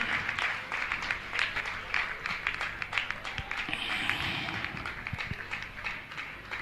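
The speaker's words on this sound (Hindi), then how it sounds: "अभी तालियां लगातार।" Steady, dense clapping from an audience at a Jain community honouring ceremony, continuing unbroken for several seconds at moderate distance with no voices over it.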